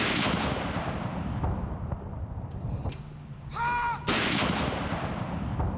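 Artillery fire from a 41-gun salute at Trooping the Colour, guns positioned in a royal park: loud booming rounds that open and close the passage, with a quieter lull and a brief tonal sound between them.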